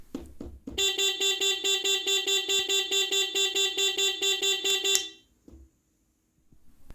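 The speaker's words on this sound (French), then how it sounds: "J'active l'alarme. Et il va s'enclencher dès qu'il détecte des vibrations." A Teverun Fighter 11 electric scooter's vibration-triggered anti-theft alarm blares a loud electronic horn in a rapid pulsing rhythm for several seconds, then cuts off abruptly into near silence.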